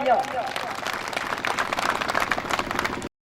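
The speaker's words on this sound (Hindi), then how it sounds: "तो एक बार उनके लिए जोरदार तालियां" A crowd at a packed public gathering in Mauganj claps steadily for about three seconds, a dense continuous patter heard under someone talking over it, then cut off abruptly.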